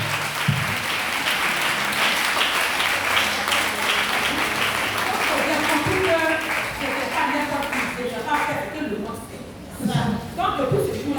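Church congregation applauding during a sermon, a steady wash of clapping that runs throughout and thins near the end, with voices mixed in under it.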